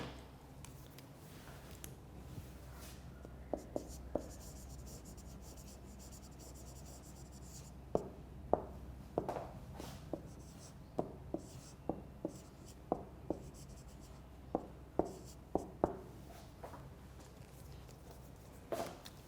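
Someone writes on a board during an online English lecture with quick scratchy strokes in an irregular rhythm, each stroke distinct, over a low room hum.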